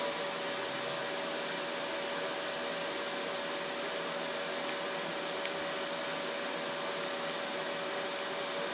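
A fillet weld being laid on a steel balcony railing gives a steady, even buzzing hiss with faint crackling ticks scattered through it, held continuously at close range with no talking.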